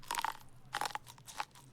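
An animal chews corn on the cob in the Rising World video game, making three short bursts of crisp crunching close up with brief pauses between them.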